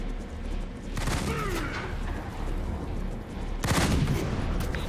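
Enemy gunfire in the Halo Wars 2 real-time strategy game, a mix of rapid bursts and scattered shots that runs continuously, swelling louder near the end, with a dense battlefield backdrop.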